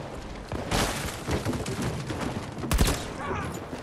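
Gunfire in the video game Battlefield 2042 fills the mix with dense, overlapping shots and a heavy blast near the end, continuous and loud throughout.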